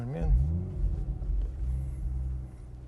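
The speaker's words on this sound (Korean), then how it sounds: "이 소리가 그래도 V6 터보, 트윈 터보 엔진 소리가 꽤 좋아요." Audi RS5 Sportback twin-turbo V6 starting up, a brief rising crank and catch followed by a steady low rumbling idle, close and moderately loud with no talking.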